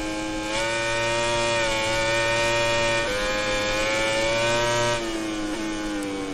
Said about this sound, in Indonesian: Memang sangat khas suaranya teman. Udah seperti motor dua tak teman suaranya.